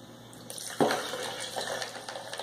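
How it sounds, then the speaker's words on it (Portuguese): Cold milk pours into a container while making a frozen blended drink: a sudden splashing gush about a third of the way in, then a steady liquid rush that continues to the end, close and fairly loud. "E leite bem gelado, deixa eu botar."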